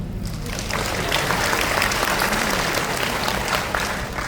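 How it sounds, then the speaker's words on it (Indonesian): Sustained applause from an audience during a Catholic family talk on marriage, a dense steady wash of many hands clapping at a constant level throughout. "Tepuk tangan."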